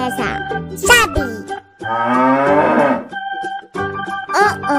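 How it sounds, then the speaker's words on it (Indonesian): A cow gives a long, drawn-out moo in the middle, loud and close, with children's music and brief vocal sounds playing before and after it. "Sapi."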